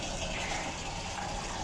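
Tap water rushing steadily into a container during household chores, a constant gushing hiss with no break and no voices, heard fairly close and moderately quiet.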